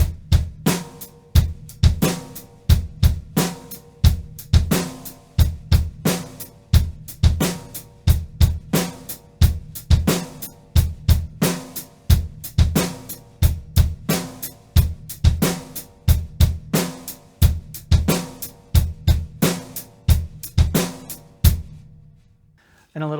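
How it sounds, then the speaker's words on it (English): A drum kit in a beginner lesson plays a steady repeating beat of bass drum leading into snare, punchy and close, looping evenly for over twenty seconds before stopping. "So the bass drum is going to lead into the snare drum note on 4"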